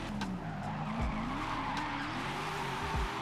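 A V8-swapped Nissan 350Z drifting in Forza Horizon 5, a sustained tire squeal over a droning engine that rises and falls in pitch, loud and continuous without speech.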